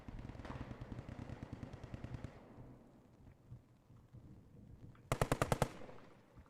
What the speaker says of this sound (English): You can actually see a couple of German soldiers actually being mowed down by an MG over here